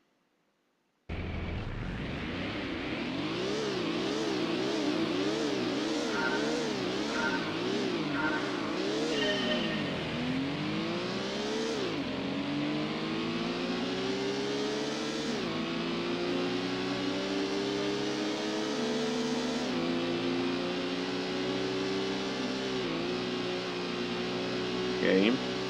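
Race car engines in Gran Turismo rev and climb through gears in a drivetrain challenge led by a modified Mitsubishi FTO, a loud continuous whine rising, dropping at each shift, then rising again for over twenty seconds.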